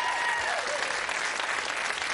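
Studio audience applause on a game show, a dense burst of clapping heard close and alone for about two seconds.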